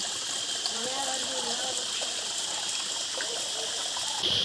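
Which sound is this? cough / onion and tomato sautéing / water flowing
water flowing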